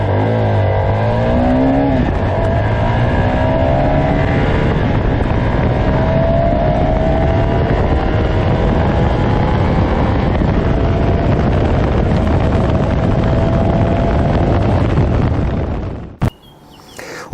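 A brand-new CFMOTO 250 NK motorcycle engine runs steadily close by, a loud continuous drone with slight pitch changes and some wind noise, ending abruptly with a short clunk.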